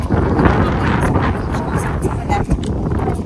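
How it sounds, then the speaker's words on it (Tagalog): Strong summer wind buffeting the microphone outdoors at a residential subdivision, a loud continuous rumbling roar with gusty swells throughout. "malakas yung hangin."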